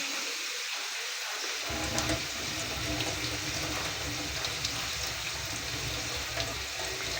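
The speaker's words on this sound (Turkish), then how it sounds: "ellerimi yıkayayım." Tap water running into a sink during hand washing, a steady rushing stream that starts abruptly after a short quiet moment and continues close and loud.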